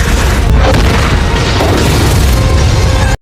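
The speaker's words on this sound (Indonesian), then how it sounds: "Saat ledakan terjadi, Venom dan Eddie terpental jatuh ke laut" A loud, sustained explosion in the film Venom roars with a dense rumbling blast that fills the whole moment before cutting off abruptly.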